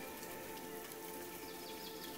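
Rain falls softly and steadily around an old wooden house in a quiet valley, a faint, even patter and hiss of drops with no voices or other sounds.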